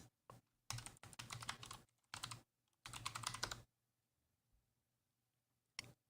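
Bursts of close computer keyboard typing, rapid clattering keystrokes in several short runs separated by quiet pauses, ending with a brief final tap.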